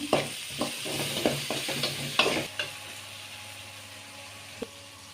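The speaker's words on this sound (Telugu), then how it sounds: "ఆనియన్ అయితే ఫ్రై అయిపోయింది టమాటో కూడా వేస్తున్నాను" Tomatoes added to fried onions in a pan, a close sizzle with a quick series of stirring clatters over the first half, then a softer steady fry with one more knock.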